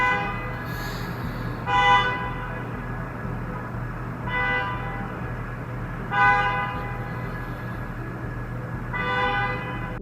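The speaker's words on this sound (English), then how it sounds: "Waymo cars honking at each other non-stop, even in the middle of the night" Waymo self-driving cars honk at each other, four short horn toots spaced a couple of seconds apart over a steady low drone, moderately loud and somewhat distant, with no voices.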